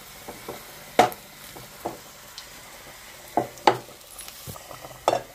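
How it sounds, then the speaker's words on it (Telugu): Dried red chillies crackle in hot tempering oil for a lentil-and-vegetable stew, with a soft steady sizzle broken by several sharp, close spatters and pops, no voices. "ఎండుమిర్చి కూడా వేగిపోయి స్టవ్ ఆఫ్ చేసేద్దాము."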